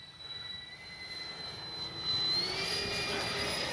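An FMS 70mm Thunderbolt V2 RC jet makes a slow pass with flaps down, its thin ducted-fan whine and airy roar growing louder and rising slightly in pitch as it approaches.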